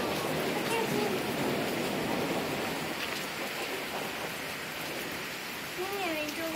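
Steady rain falls during a small July thunderstorm, a constant dense hiss with no distinct thunder; a few faint voices and squeaks sit underneath near the end.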